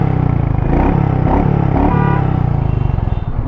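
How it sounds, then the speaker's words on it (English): Royal Enfield Meteor 350 motorcycle exhaust sounds close and loud as a steady, throaty idle, with low, even pulses that rise slightly in a couple of brief blips. "let's hear the exhaust note again"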